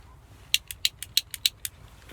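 A pipe smoker's lighter being struck, a quick run of about eight sharp, evenly spaced clicks, close and fairly loud against a quiet background.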